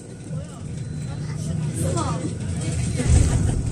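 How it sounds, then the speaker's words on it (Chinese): A tourist sightseeing bus driving along the Yangtze River in Fengjie, Chongqing, its engine rumbling steadily and growing louder toward the end, with people talking over the drone. "大巴车正沿着长江走啊"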